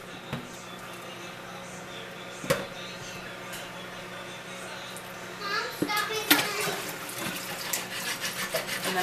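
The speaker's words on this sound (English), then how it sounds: "then I will run cold water over the top" Cold water runs from a kitchen tap over potatoes in a bowl, a steady hiss under light clatter and a sharp knock. It swells louder and more splashy toward the end, with a voice faintly in the background.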